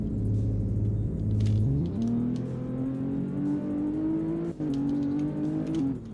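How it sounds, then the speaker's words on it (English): A Maserati Ghibli launching from standstill: a steady idle-like drone, then a step up as the engine revs and the car pulls away, the engine note climbing smoothly and staying loud and close throughout, with a brief cut mid-pull. "Let's try to launch it again."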